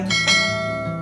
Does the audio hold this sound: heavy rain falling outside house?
no